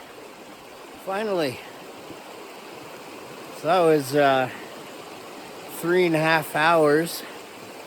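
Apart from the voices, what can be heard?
mountain creek flowing, Watchtower Creek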